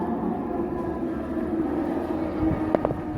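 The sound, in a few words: train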